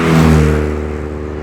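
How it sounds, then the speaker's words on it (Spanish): A car pulls out of a parking space with the accelerator pressed, its engine revving loudly in a steady, droning hum that eases slightly as it goes on. No one speaks. "Saqué el coche del aparcamiento y pisé el acelerador."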